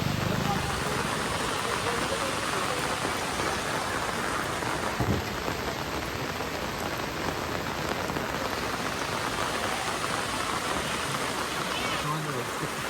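Heavy rain pours down steadily at the Kanur market, a dense, loud hiss of drops drumming on tarpaulins and surfaces for the whole stretch. A faint rumble of thunder sounds partway through.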